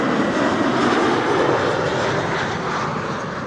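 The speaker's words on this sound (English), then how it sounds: "Embraer 190," A German Airways Embraer 190 at Amsterdam Schiphol makes a loud, steady jet engine roar that eases slightly toward the end, with no voices.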